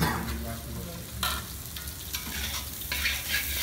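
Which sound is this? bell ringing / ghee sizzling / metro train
ghee sizzling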